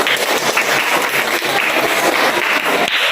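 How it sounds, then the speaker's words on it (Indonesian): A classroom audience claps continuously in a dense, steady burst of applause for about three seconds, with no voices standing out above it. "berikan aplaus dulu"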